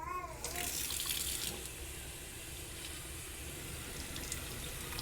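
Water poured through the soil and roots of a freshly repotted plant in a pot: a quiet, steady splashing and trickling that begins with a brief louder gush and then runs on softly and evenly.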